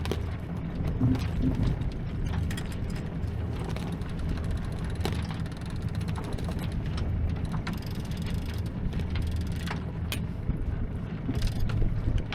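A loose sail on a sailboat flaps in the wind off Lagos, Portugal, giving irregular rustling snaps and clatter over a steady low rumble of wind and boat noise.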